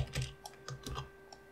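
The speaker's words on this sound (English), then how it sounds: "Now, I'll type in TestDisk." Keys on a computer keyboard are tapped in a short, quiet run of about eight uneven clicks while the name of a Linux data-recovery program is entered.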